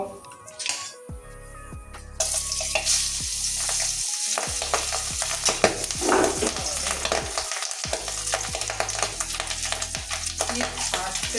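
Pabda fish frying in hot oil, a dense close sizzle with spatters and crackles running throughout, broken by brief pauses and utensil knocks against the pan.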